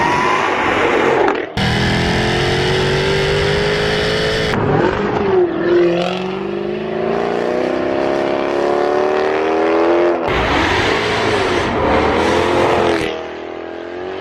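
A modified supercharged V8 Jaguar F-Type from the 2013-on range, around 597 bhp, driving loud and close, its engine rising and falling through revs with sharp gear changes and steady roaring pulls.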